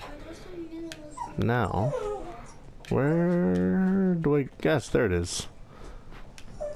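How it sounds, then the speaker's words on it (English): A pet dog whines and whimpers in high, wavering cries somewhere in the background of a room, coming in two longer stretches while someone talks over gameplay. "I think that's my dog in the background."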